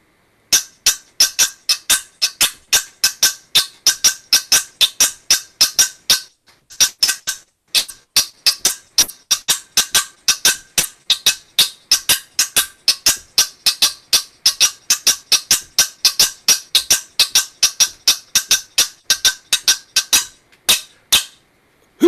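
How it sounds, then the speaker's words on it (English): Guiro scraped in a lively repeating rhythm, many sharp rasping strokes in quick bursts with brief pauses between phrases, close and fairly loud, heard alone. "So Raoul, it'd be lovely to hear what that sounds like on the guiro."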